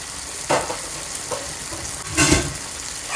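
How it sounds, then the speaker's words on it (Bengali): A spoon stirs beef curry in a pot over a high flame, giving short scraping, sizzling bursts over a constant low frying hiss. "এটা আমি এখন ভালো করে নেড়ে দেবো"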